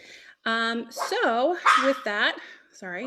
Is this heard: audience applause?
no